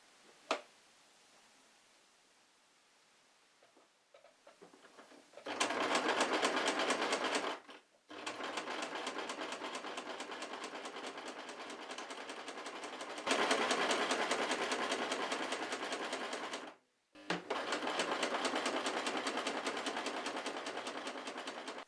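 A sewing machine stitches a bunny plush in three long, steady motorized runs separated by short pauses, loud and close after a quiet start.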